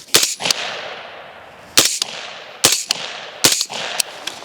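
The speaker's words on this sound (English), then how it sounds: "Let's shoot our Hesy first. I'm gonna take off the ears and see how quiet she is." A rifle fitted with an IDG Hesy SixK suppressor fires four loud, sharp suppressed shots about a second apart, each one a hard crack followed by a short, fading rumble.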